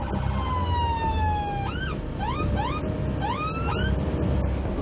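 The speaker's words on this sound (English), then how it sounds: "Love these new sirens." A loud ambulance siren wailing up and down in repeated sweeping tones, steady and close, with road noise beneath.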